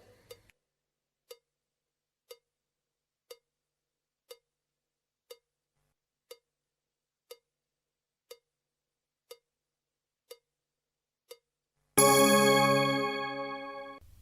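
A steady clock-like tick repeats about once a second for a dozen beats, then a loud, bright classroom bell rings out and sustains, fading slightly until the end.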